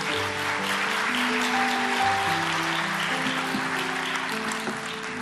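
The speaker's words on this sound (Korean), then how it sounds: "축복의 박수 또 환영의 박수 드리기 원합니다" A church congregation at an early-morning prayer service applauds to welcome a preacher, with steady dense clapping while an organ or keyboard holds chords underneath throughout.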